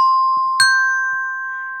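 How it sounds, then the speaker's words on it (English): Two resonator bell tones ring out, a sustained do followed by a brighter higher so, both ringing clearly and fading slowly. "For the resonator bells, we're just going to use two notes."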